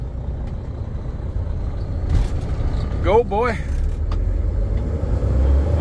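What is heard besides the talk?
new truck driving loaded with wheat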